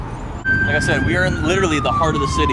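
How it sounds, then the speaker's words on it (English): An ambulance siren wails steadily in the background of a busy Florida city center, rising and falling in long sweeps, while someone talks loudly up close over it. "You can hear ambulance in the background"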